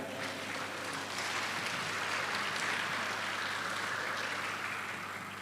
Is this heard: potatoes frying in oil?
no